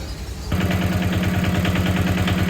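A used Japanese tractor's 879 cc three-cylinder diesel engine starts running after a quiet half second, settling into a steady, loud, evenly pulsing chug that continues to the end with no talk.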